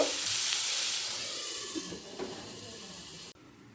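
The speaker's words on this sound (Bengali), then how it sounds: "লো ফ্লেমে আলুটাকে সেদ্ধ হতে দেব" Potatoes cooking covered in a pan over a low flame for a Bengali potato, capsicum and tomato curry, a close steady hiss and soft sizzle that slowly fades before cutting off abruptly near the end.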